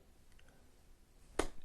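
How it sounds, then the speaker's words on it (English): One crisp, isolated clap from someone in a relaxed golf putting stance with loose-hanging arms, arriving abruptly after a stretch of near silence and sounding close by. "Clap."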